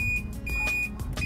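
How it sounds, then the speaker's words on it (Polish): An Archos X3 electric scooter's turn signal beeps steadily with short, high, evenly spaced tones over a low electrical hum, with no other sound. "do momentu wyłączenia kierunkowskazu cały czas nam pikają"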